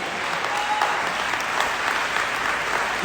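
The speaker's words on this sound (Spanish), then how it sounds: "Den un fuerte aplauso a Jesús." Church congregation giving sustained, dense applause, a steady wash of many hands clapping at once with no clear pauses.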